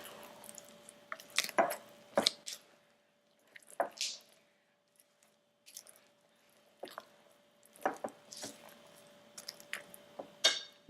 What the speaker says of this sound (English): And just mix that in.